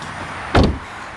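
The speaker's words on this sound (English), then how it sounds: "Every time you close it, it just doesn't sound like a Hyundai of old. A just nice solid thud." The door of a 2017 Hyundai Elantra Sport shuts with a single solid, close thud at mid-clip, framed by quiet ambient noise.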